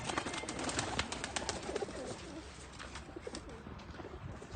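Flying pigeons coo softly from a rooftop loft in faint, low, repeated calls set against steady outdoor background noise, with no talk over them.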